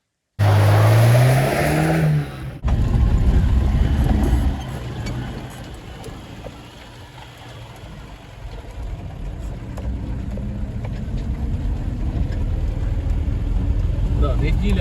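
A car drives off on a trip to collect beehives, with loud, close engine and road noise that starts abruptly after a brief rustle, then settles into a steady rumble throughout.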